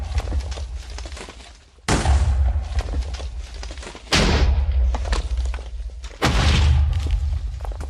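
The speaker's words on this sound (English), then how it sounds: "It's like TNT, but like I feel like the explosion is a little more powerful." Three heavy booming blasts from end crystals exploding in Minecraft, each a sudden loud broadband burst at roughly two-second intervals with rumbling low-end decay between them and no talking.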